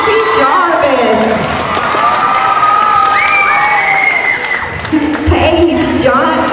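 A school crowd claps and cheers loudly and steadily at an elementary school Renaissance award ceremony, with voices and tones mixed into the sustained applause.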